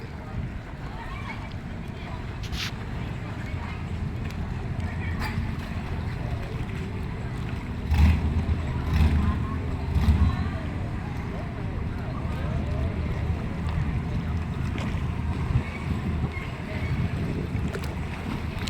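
Steady low rumble of small longtail boat engines on a river at Pak Kret, Thailand, with water and wind noise, and a louder boat passing close around the middle; voices murmur faintly.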